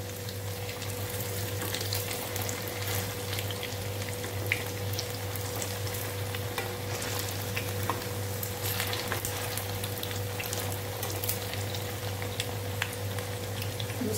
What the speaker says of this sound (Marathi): दुसऱ्या साइडने पण आता आपण 2 ते 3 मिनिटाचा चांगले असे फ्राय करून घेऊ